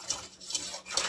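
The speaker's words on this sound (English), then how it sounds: "you see that I'm using a metal spoon to cook the candy with." A metal spoon stirs cooking fudge candy in a pot, giving three light, quick scraping clinks against the pan at a steady rhythm, close and fairly quiet.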